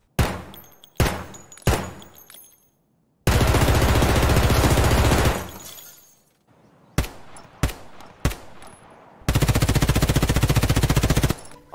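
KRISS Vector gunfire, fast automatic bursts that are loud and close, alternating with a few single sharp shots, with long sustained rapid-fire strings in between.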